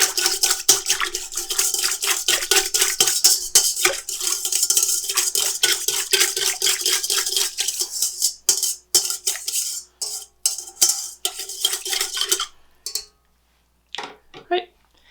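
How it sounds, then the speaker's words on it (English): Active dry yeast being whisked in a bowl for cinnamon roll dough: a rapid, steady clatter of a whisk against the bowl, close and continuous, then slowing into a few scattered taps near the end. "I'm going to put in my active dry yeast, and I'm going to whisk that together"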